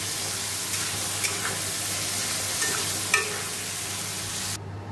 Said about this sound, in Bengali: দেখো এখানে জিরের গুঁড়ো, কাশ্মীরি লঙ্কার গুঁড়ো, হলুদ গুঁড়ো, একটু চিনি দিয়ে ভালো করে কষে নিচ্ছি।